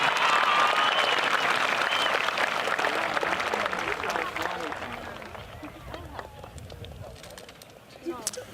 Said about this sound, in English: let's have a round of applause for all of our students earning college credits in high